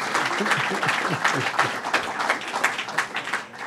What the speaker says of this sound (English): Let's give our Consul General a big round of applause